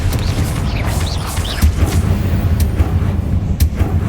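A Confringo fire-blast spell in Hogwarts Legacy lands as a few low booming bursts amid game ambience, several thuds spaced across a few seconds at moderate loudness.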